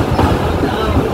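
The Sikkim Mahananda Express crosses the Jaldhaka river rail bridge, giving a loud, close, continuous rumble of rolling wagons for a short moment.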